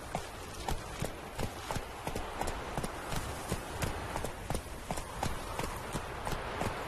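Rapid, regular galloping hooves from Roach, the horse in The Witcher 3 video game, pound steadily and close throughout against a dense background wash.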